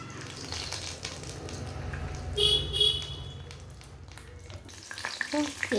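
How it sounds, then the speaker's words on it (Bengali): Boiled cabbage leaf rolls with a cooked filling fry lightly in a pan, giving a soft steady sizzle with a few louder crackles and clinks of a utensil nearby. "একটু আমি হালকা ভেজে নেব।"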